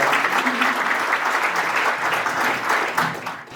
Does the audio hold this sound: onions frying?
no